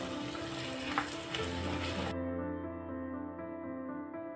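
Boiled potatoes stirred into hot frying masala in a pan for vada pav: a close, even sizzle with soft stirring, turning duller and muffled partway through.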